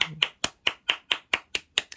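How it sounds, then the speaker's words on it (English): A crowd claps in steady rhythmic unison, about ten sharp claps at an even pace, close and clear with no talk over them. "I always try and go quiet when they're doing clapping, because obviously you can't hear me"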